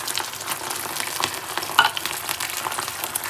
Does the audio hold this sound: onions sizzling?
yes